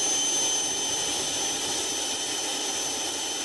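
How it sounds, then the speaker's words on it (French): A new quiet aircraft engine design by Jetoptera, captured right beside the engine: a steady, loud broadband jet roar with a thin high whine running unbroken throughout. "écoutez ce nouveau type d'avion conçu par la société Jetoptera"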